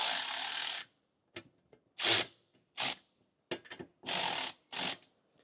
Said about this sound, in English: we're going to use our king chrome ratchet. Just bring these all the way down